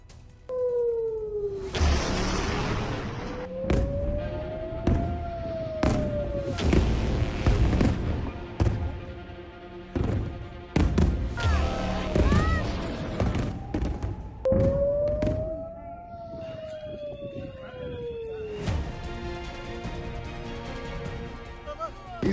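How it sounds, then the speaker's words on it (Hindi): Iranian missiles striking Israel: a series of loud booms and sharp blasts spread across the stretch, with rising siren-like wails drifting in and out between the impacts. "इजराइल पर ईरानी मिसाइलों की अंधाधुंध रफ्तार देखिए।"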